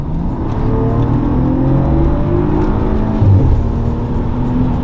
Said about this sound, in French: quand on passe le mode sport, c'est qu'on entend tout de suite que les valves sont ouvertes